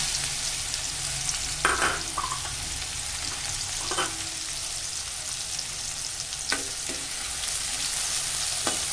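Onions frying in hot oil over low flame, a dense even sizzle throughout with a few scattered stirring clicks and scrapes, no voices.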